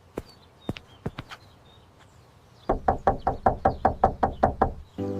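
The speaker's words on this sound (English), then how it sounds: "All right, Sophia, go ahead and knock on the door." A door is knocked on: a few scattered raps, then a quick run of about a dozen firm, close knocks in a steady rhythm, with no talking.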